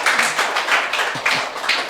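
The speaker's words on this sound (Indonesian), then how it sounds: "Tepuk tangan untuk beliaunya terlebih dahulu." Audience applause for a guest religious scholar at a Ramadan gathering: steady, dense clapping from many hands, sustained and fairly loud with slight surges, no voices over it.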